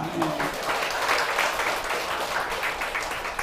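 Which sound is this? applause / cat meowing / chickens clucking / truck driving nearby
applause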